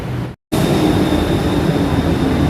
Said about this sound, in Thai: มาแล้ว BTS รถไฟฟ้า